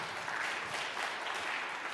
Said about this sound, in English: give her a hand clap, please.